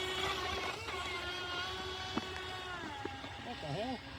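High whine of a Proboat Sonicwake 24 RC boat motor running at full throttle, rising and falling in pitch as the boat moves out on the water, with a person talking over it.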